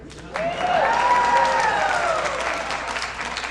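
Audience applause after a New England Brass tribute to Broadway, dense sustained clapping from a crowd that swells suddenly and holds steady, with a faint tonal sound at the start.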